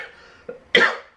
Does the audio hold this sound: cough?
yes